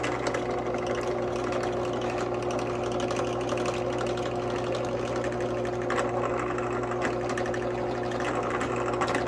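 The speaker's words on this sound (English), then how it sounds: "So take the drill press, see if we can get this hole." A drill press running at its slowest speed bores a hole in a scratchbuilt HO scale model underframe part, giving a steady motor drone with light chattering ticks throughout and no talk.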